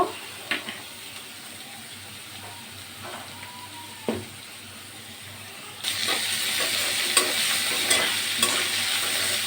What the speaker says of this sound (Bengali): চিংড়ি মাছ দিয়ে দিলাম যে চিংড়িগুলো একটু বড় সাইজের আমি কেটে কেটে দিয়েছি